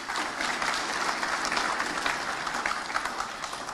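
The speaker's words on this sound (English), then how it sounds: "Ladies and gentlemen, please another round of applause." Steady, dense applause rises from an audience at a formal university ceremony after a speech. The clapping is continuous and even, fairly full, with no talk over it.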